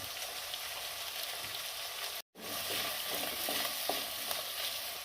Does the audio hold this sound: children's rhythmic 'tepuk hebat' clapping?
no